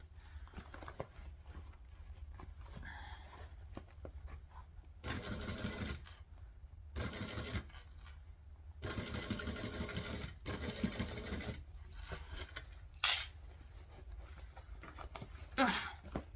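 A sewing machine stitching forward and then back stitching, with bursts of steady mechanical whirring that start and stop in several runs separated by short pauses and handling sounds, close up, no talking.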